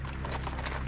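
Horses' hooves clip-clop in a steady, busy patter under a dense wash of background noise, continuous and fairly close throughout.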